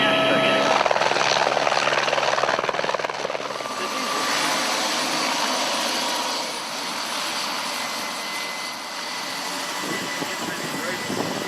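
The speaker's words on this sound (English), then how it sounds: "You got a chopper coming." A rescue helicopter arrives with a loud, steady rotor and engine roar that stays close and continuous throughout, with a faint voice underneath.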